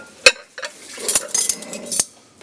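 Pots and dishes being scrubbed in a Bigg Boss Marathi house give sharp, close metallic clatters and knocks in an irregular run with rubbing noise between them.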